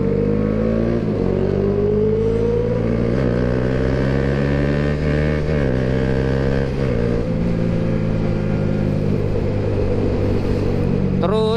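A Kawasaki ZX25R engine screams toward redline in fifth gear, a loud, sustained high-revving wail whose pitch climbs and wavers with brief dips, running continuously throughout.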